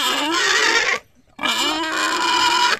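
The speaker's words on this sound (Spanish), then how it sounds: "aquí hay un par de puercos llorando" Pigs squeal loudly in two long, harsh, high-pitched bursts with a brief pause between them, close to the listener on a farm.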